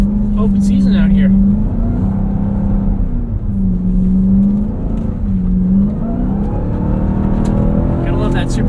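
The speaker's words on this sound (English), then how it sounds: "Gotta love that supercharger noise." A 2026 Dodge Durango SRT Hellcat Jailbreak AWD with 710 hp driving hard in snow at a rally school, its engine roaring steadily with a rising and falling supercharger whine, loud and close from start to finish.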